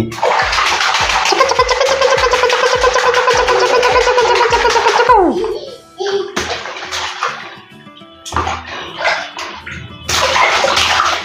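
Water splashes and sloshes as a baby is bathed at home, with a long stretch of splashing, a brief quieter break and then more rushes of water, close and loud.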